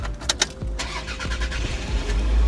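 A car engine is started: a few cranking clicks and turns build into a low, steady rumble that catches and grows louder at the end, with no talking.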